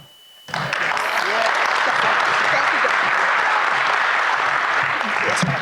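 An audience at a Martin Luther King Jr. commemoration service in Columbia breaks into loud, sustained applause that starts abruptly after a brief quiet moment and carries steadily to the end, with scattered voices mixed into the clapping.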